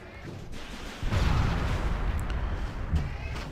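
Artillery fire strikes Great War infantry in Civilization V, a sudden heavy boom about a second in that rolls into a sustained rumble, with a second softer thud near the end.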